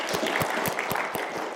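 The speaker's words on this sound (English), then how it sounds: "please join me in being a give a round of applause for all of our supporters here" Applause for supporters at a lecture series event, a short stretch of scattered, separate claps from a modest audience, fairly quiet and evenly spaced.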